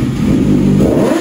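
A Kawasaki ZX6R sport bike with a very loud aftermarket exhaust revs close up, a brief, heavy, rasping engine roar that dominates throughout.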